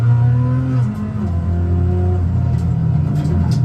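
A Koenigsegg Jesko Attack engine holds a loud, deep, steady drone up close at speed on a test track, with pitch rising and falling slightly as the throttle is held.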